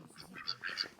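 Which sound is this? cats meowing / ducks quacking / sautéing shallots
ducks quacking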